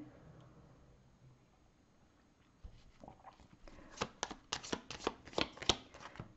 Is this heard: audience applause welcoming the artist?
no